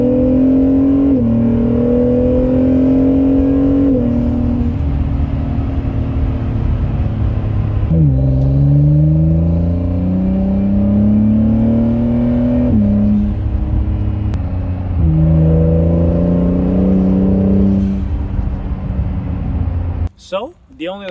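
A 2017 Acura NSX engine revs and pulls hard through several rising gear sweeps, loud and close with a deep droning tone, before ending in a brief burst of noise.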